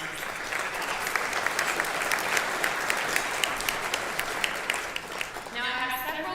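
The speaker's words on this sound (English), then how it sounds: "let's give this group of supporters a big round of applause" A crowd at a county State of the County address gives continuous applause. It is loud and dense, holds steady for several seconds, then thins out near the end as a voice starts.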